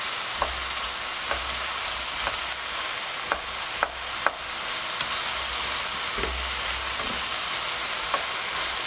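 Courgette cubes frying with aubergine in residual oil in a sauté pan, a steady, fairly quiet sizzle throughout with occasional light taps and scrapes of stirring.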